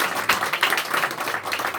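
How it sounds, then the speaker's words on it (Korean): A church congregation at a Sunday morning service claps in welcome for a visitor, a dense, even patter of many hands that carries on throughout. "우리 박수로 환영하겠습니다."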